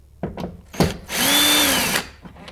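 A cordless power driver spins out door speaker screws on a 2009-2015 Honda Pilot: a couple of short clicks and taps, then one sustained whirring burst about a second long, close and loud.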